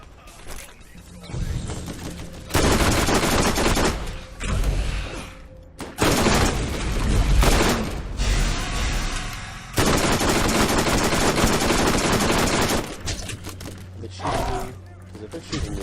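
Rapid bursts of automatic gunfire in the video game Borderlands, loud sustained volleys from several weapons broken by short pauses, with voices talking over the shooting.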